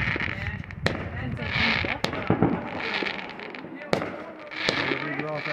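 New Year fireworks going off outdoors, several sharp bangs scattered among crackling and distant pops, with people chatting throughout.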